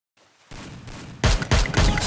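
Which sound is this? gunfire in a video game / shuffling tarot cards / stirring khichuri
gunfire in a video game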